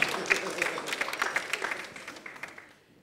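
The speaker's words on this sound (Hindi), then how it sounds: "हमारे अखाड़े के लिए भी ताली बजाइए।" A studio audience at a comedy reality show launch claps for the show's arena team, a burst of scattered hand claps that starts loud and gradually thins and fades out.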